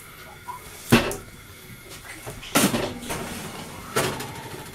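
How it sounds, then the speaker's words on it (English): A baking tray of marshmallow brownies goes onto the middle shelf of a kitchen oven, with three sharp metallic thuds and clunks spaced a second or two apart over quiet room tone. "just put it into the oven, middle shelf"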